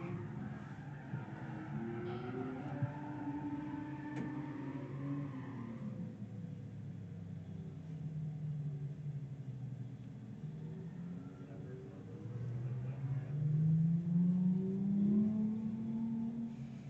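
A yellow BMW E36 and a green Nissan 350Z drift in a street-class battle at a drifting competition in Emmett, Idaho. Engines rumble and rev at a distance, and one rises to a louder rising whine near the end.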